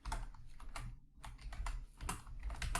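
Computer keyboard keys pressed as Photoshop shortcuts such as Ctrl+Z during an image-editing lesson: a quick, close run of crisp clicks and taps with a brief pause partway through.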